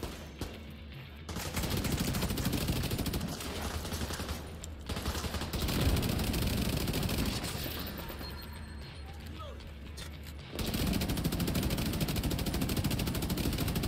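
Gunfire in The Division 2 video game: dense, sustained bursts of automatic weapon fire and crackling shots filling most of the stretch, with a couple of brief gaps, loud and close under occasional talk.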